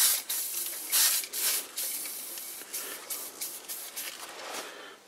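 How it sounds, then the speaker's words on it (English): WD-40 sprays onto a dry wooden threading tool in a series of short, close hissing bursts that weaken and shorten toward the end. "Maybe I should spray a little WD-40 on there."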